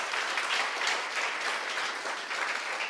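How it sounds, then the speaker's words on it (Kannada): A church congregation claps for God, producing dense, continuous applause from many hands that stays loud and even throughout, with no speech over it. "ಯಾರಾದರೂ ಸಂತೋಷವಾಗಿದ್ರೆ ಒಂದು ಚಪ್ಪಾಳೆ ತಟ್ಟುತ್ತಾ ದೇವರಿಗೆ"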